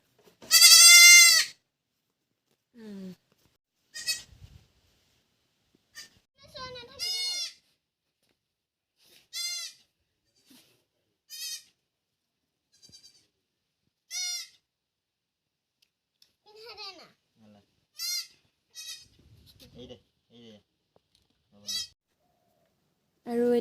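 Young goats bleat repeatedly, their calls close and loud, with one long cry at the start. Shorter bleats follow at irregular intervals, separated by quiet gaps.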